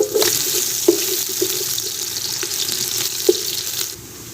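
Finely chopped onions dropped into hot ghee in a pot, giving a steady, close hissing sizzle with a few sharp crackles and pops, fading slightly at the end.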